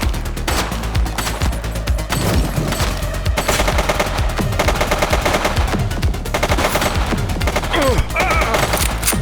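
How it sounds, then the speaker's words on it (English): Rapid bursts of automatic gunfire in The Precinct video game, loud and dense, with overlapping shots and sharp reports running almost continuously throughout. "He's shooting!"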